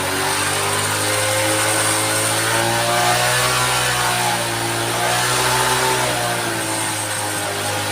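A Honda CD 70 motorcycle engine with a misfiring problem revs up and down under the throttle, a loud close buzzing roar that swells and eases in waves, continuous and without talk.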